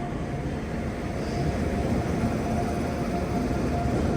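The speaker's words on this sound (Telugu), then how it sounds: "ప్లాట్ఫామ్ నెంబర్ 1కి ఏదో ట్రైన్ వస్తుంది" Train pulling into a platform at a railway station in Raipur, a low steady rumble and rolling rail noise that grows slightly louder as it approaches, with no voices.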